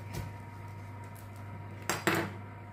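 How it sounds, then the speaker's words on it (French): A knife slices through a lemon on a cutting surface, leaving two quick, sharp clicks close together near the end after a faint thump at the start, in a quiet kitchen with no speech. "Alors, on va couper le citron."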